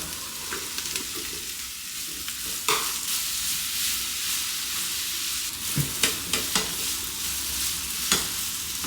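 Okra frying in a pan with onion and garlic gives a steady close sizzle, broken by scattered clinks and scrapes of stirring.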